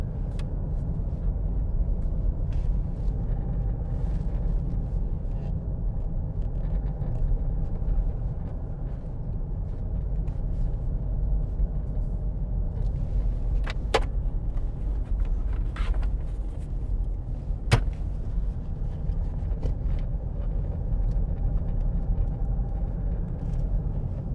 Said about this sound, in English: I say it feels solid, but I've got a rattle here.